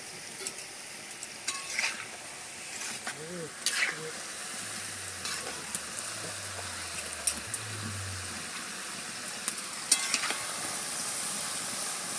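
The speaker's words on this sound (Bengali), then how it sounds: "তালের বড়াগুলো ভাজা হয়ে গেছে" Palm fritters (taler bora) frying in a pan of hot oil, giving a steady, faint sizzle with soft bubbling that runs throughout, plus a few brief clinks and low hums near the start.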